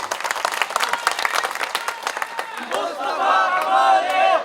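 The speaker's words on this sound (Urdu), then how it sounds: "تالیاں بھی بجائیں" Audience at a Pak Sarzameen Party workers' gathering in Karachi breaks into sustained clapping that swells and grows louder, crowd noise and scattered voices running beneath it.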